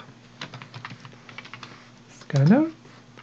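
Computer keyboard typing while a program is written in IntelliJ: quick, irregular light key clicks through the clip, briefly masked near the end by a short burst of a louder voice.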